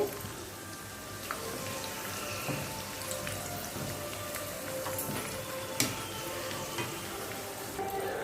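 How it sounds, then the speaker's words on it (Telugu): Cashew nuts frying in oil in a pan, a soft, even crackling sizzle with scattered pops throughout. "కొంచెం జీడిపప్పు అది కూడా వేపేసుకోవాలి"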